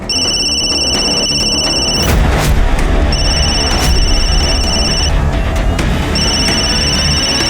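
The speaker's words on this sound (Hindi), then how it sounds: "ये फोन की आवाज, हाँ फोन की आवाज कहाँ से आ रही है?" An electronic phone ringtone rings loudly in repeated bursts with short gaps between them, accompanied by dramatic booming music hits and no talking.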